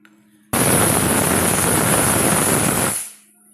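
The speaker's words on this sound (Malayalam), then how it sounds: "അങ്ങനെ അസ്ത്രത്തിനുള്ള കഷ്ണങ്ങൾക്ക് രണ്ട് വിസിലായിട്ടുണ്ട്" A pressure cooker whistles while cooking vegetable pieces for astram, a Kerala mixed-vegetable dish, as one loud, steady, hissing blast of steam that lasts about two and a half seconds before fading.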